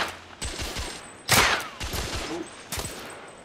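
Pistol gunfire in the video game The Order 1886: several sharp shots spaced irregularly, one louder blast in the middle, close and punchy over a quiet background.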